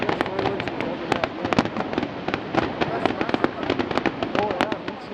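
Canada Day fireworks burst in a quick, irregular volley of sharp cracks and booms over a rumbling crowd, with people talking and exclaiming nearby.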